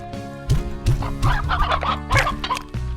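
Chickens cluck and gobble repeatedly in the video game Slime Rancher, several close, loud calls in quick succession over a soft game background.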